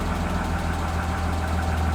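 Close engine of a 1999 BMW 323is (E36) idling with an uneven, knocking rumble, steady throughout and without speech; the car is running low on fuel.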